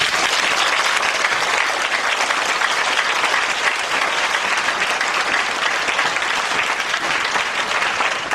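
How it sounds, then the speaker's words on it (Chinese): Sustained, loud audience applause fills a premiere screening in Taipei as the director is welcomed, a dense wash of clapping from a large crowd lasting throughout with no pauses. "我们用最热烈的掌声来欢迎我们的郑文堂郑导演"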